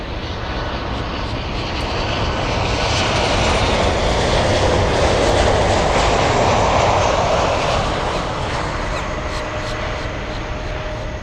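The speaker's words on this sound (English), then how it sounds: "we're going to have the CFM56 engines powering the 73 at full power, and then we're going to have CF6 engines powering the 767" Boeing 737 with CFM56 engines and 767 with CF6 jet engines at takeoff power at Miami International, a loud sustained roar that swells toward the middle and stays dense throughout, with no voices over it.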